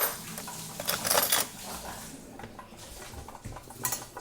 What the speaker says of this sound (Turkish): Kendime bir tane herhangi bir kaşık alacağım. Karıştırmak için.